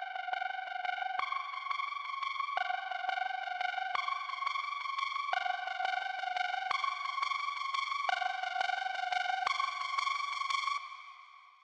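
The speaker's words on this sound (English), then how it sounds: "that washout reverb effect on this lead" A drum and bass synth lead plays a repeating tonal phrase of bright stacked notes through a washed-out reverb, steady and unlooped, then trails off at the end with no voices.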